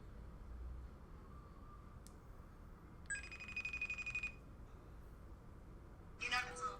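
An outgoing phone call rings on the line, with a single electronic ring burst of about a second, then a pause and the start of another, faint over low background noise.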